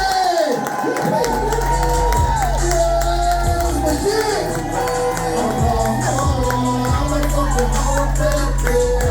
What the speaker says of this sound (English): start clapping, start clapping, start clapping, start clapping. Give it up to Spunky!